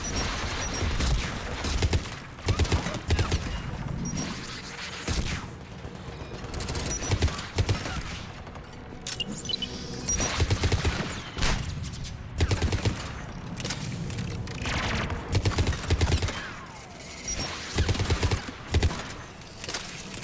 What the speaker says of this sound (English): The guns protecting the tower!